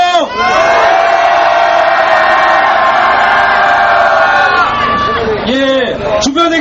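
A crowd roars at a protest rally for revising the Sewol ferry special law, a loud sustained collective shout of many voices that holds for several seconds and then breaks into scattered cheers and whoops.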